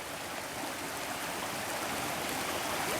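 Creek water flows past the bank below in a constant, even hiss and rush, steady and alone with no voices.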